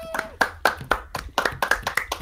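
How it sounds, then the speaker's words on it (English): A short round of clapping: roughly ten crisp, close hand claps in an uneven rhythm, with no voices over them. "Round of applause for Operation Firecrunch."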